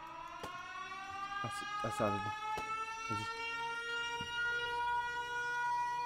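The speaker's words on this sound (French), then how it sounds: "Bah, ouais, c'est le bruit de sirène." A sustained, wavering siren tone from the Minecraft video game drones steadily through the whole stretch, with overlapping French voices talking over it and brief game clicks and thuds.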